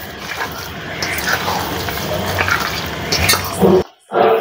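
Cooking oil pours in a continuous stream into a bowl for a star fruit pickle, a close, steady liquid rush that runs for several seconds before cutting off, followed by a brief splash.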